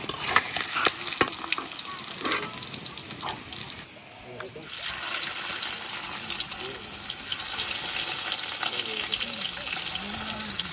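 Fish sizzles lightly in hot oil in a home Bengali kitchen, a soft crackling fry broken by stirring and clattering, with a brief dip midway before the sizzle resumes steadily.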